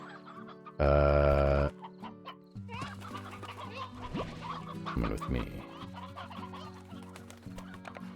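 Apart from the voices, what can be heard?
chickens clucking in Slime Rancher video game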